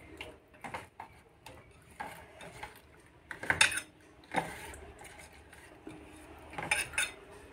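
Hilsa fish being mixed by hand into a yogurt spice paste in a bowl, soft wet squelching with intermittent clinks and taps against the dish, close but quiet, no talking.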